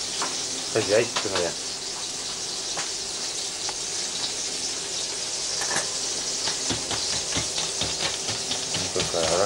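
Fish fries in a pan with a steady, close sizzle and crackle, punctuated by occasional clinks, while a voice speaks briefly over it.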